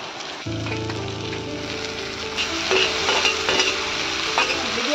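Black chickpeas and spices drop into a pan of browned frying onions and get stirred: a sudden, steady close-up sizzle with repeated scraping spoon strokes building slightly louder.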